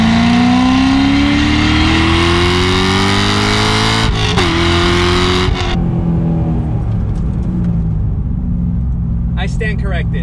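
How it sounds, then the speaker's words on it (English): Corvette C6 Z06 accelerating hard from inside the car, its engine note climbing steadily through a long pull, then easing off to a lower rumble, with a faint voice near the end. "Now that you guys seen just how quick this car is to accelerate"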